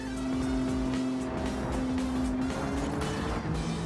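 A Nissan Skyline race car in Gran Turismo 7 drives on Trial Mountain, its engine droning steadily at high revs, the pitch shifting with brief tire squeal, loud and close throughout.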